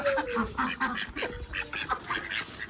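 Busy chickens clucking and squawking close by as they are fed roti, with scattered calls overlapping in a lively, continuous chatter at a small home zoo.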